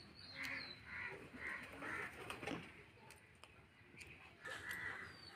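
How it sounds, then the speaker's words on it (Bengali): A pair of myna birds calls near a kitchen where green beans and potatoes are being cut, giving faint, repeated harsh chirps and squawks in short bursts over quiet background noise. "জোড়া শালিক এসছে, শালিকগুলো দেখো কত সুন্দর"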